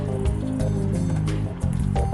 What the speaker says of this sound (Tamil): அதில் மட்டனை மட்டும் எடுத்து இதில் போட்டு ஃப்ரை பண்ண போகிறோம்